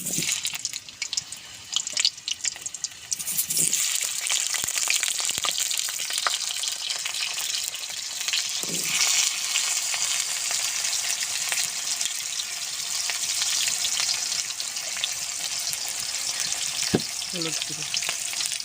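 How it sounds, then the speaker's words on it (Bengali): Potatoes frying in oil for potol chingri give a steady, dense sizzle that fills the whole stretch, with a few brief clinks of stirring now and then and no talk. "পটল চিংড়ি করার জন্য আলুটা ভেজে নেব।"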